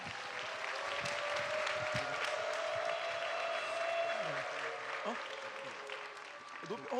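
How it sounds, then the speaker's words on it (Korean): Church congregation at a youth winter revival clapping to welcome a visiting pastor, a sustained, somewhat distant wash of applause with faint voices mixed in. "우리 박수로 환영하겠습니다."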